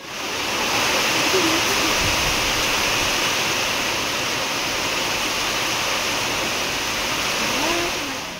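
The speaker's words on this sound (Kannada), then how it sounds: "ಇದ್ದಕ್ಕಿದ್ದಂಗೆ ಜೋರು ಮಳೆ ಬಂತು. ಎಂಥ ಮಳೆ ಅಂದರೆ ಯಪ್ಪ ಸಿಕ್ಕಾಬಟ್ಟೆ ಮಳೆ ಬಂತು." A sudden heavy rain pours down in a loud, steady, broadband roar that swells in within the first second and holds evenly for about eight seconds before easing slightly at the end.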